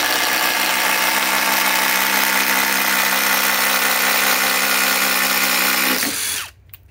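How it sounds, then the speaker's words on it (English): A RIDGID 2400 inch-pound cordless drill on speed 3, running an Octane battery, bores with a 1 inch speed bore bit, a loud steady whine for about six seconds before spinning down and stopping. "Let's see how fast this will drill"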